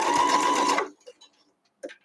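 A sewing machine runs a short stitch length of 1.8 through a foundation paper pieced quilt block, a close, loud, rapid and steady whirring burst that stops abruptly after under a second, followed by faint clicks and soft fabric handling noises.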